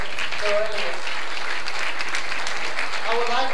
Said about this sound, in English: let's give him a big hand, round of applause